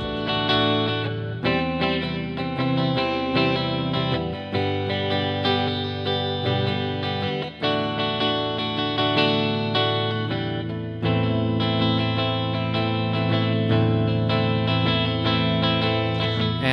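Electric guitar played through an amplifier with basic EQ and a little reverb, sustained chords and notes ringing continuously and loud, with no talking.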